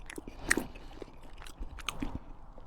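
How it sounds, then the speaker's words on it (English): Food is chewed close to the mouth in soft, irregular crunching bites and wet mastication sounds, fairly quiet, with no voice over it. "the sounds of my mouth chewing food"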